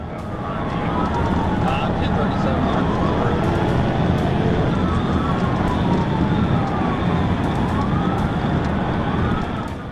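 A police siren wails continuously during a high-speed chase, its pitch sweeping up and down over a loud rush of traffic noise, steady and close throughout.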